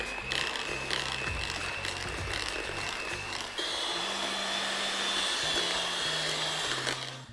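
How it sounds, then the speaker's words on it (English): An electric mixer beats chocolate chip cookie dough with cream mixed in, giving a loud, continuous whine with shifting pitch as the beaters work through the bowl. "Then with some electric mixer, go in and start beating."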